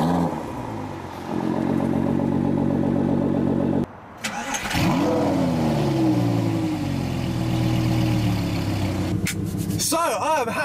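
Two McLaren 570S supercars fitted with Armytrix exhausts start up and rev hard, the engines loud and close with rising and falling pitch sweeps and a brief cut in the middle.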